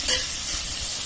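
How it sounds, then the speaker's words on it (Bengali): Fish fry in hot oil in a home kitchen, giving a close, steady sizzling hiss after a brief sharp clink at the start. "যে মাছগুলো ভাজা হয়ে গেছে সেই মাছগুলো তুলে নেবো"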